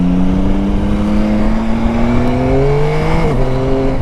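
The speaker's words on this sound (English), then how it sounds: "Just listen to that quick shifter up and down from the factory." Engine of a 2021 Yamaha Tracer 9 GT motorcycle rising and dropping in pitch as the factory quick shifter snaps through gears up and down, loud and steady with a clear shift break near the end, no talking.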